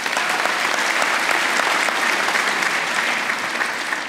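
A large audience at a College of Agriculture commencement breaks into loud, continuous applause, a dense, steady roar of clapping hands that barely eases over several seconds.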